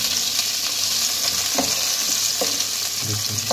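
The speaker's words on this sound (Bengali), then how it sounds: "এবার মাছগুলোকে হালকা আমি ভেজে নেব।" Prawns frying lightly in hot white oil in a pan, a constant close sizzle with occasional spatula scrapes and bursts of spatter, heard alone without talk.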